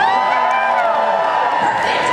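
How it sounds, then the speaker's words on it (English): A loud, enthusiastic studio audience at a live Fear Factor show cheers and whoops continuously, a dense wall of voices close and sustained for the whole stretch. "I also need a loud and enthusiastic studio audience, and that's you guys. So let me hear it."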